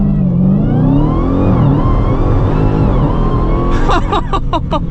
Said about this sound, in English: 0 to 60 in the Demon 170.